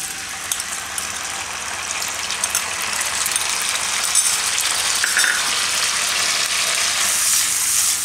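Curry leaves and Schezwan chutney sizzle steadily in a pan over a very low gas flame while an idli chaat is being made, a continuous loud hiss and crackle that builds slightly toward the end, with no talking.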